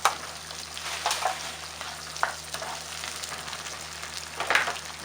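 Cherry tomatoes sizzle and fry in a sauce in a pan, with a steady crackling hiss and occasional louder spits and stirring scrapes throughout, no talking.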